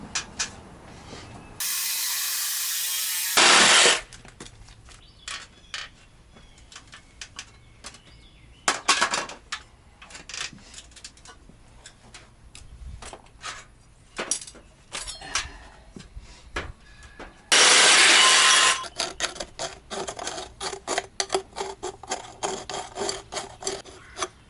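A steel intercooler pipe being cut during Ford F250 Cummins swap plumbing work: loud bursts of harsh grinding and cutting noise, the longest two lasting a few seconds each, broken by rough scraping, clattering and metal handling, with no talk.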